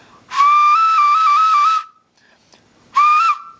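A handmade ceramic whistle is blown twice, first a long steady tone with small pitch steps lasting over a second, then a shorter blast after a pause, slightly airy and close.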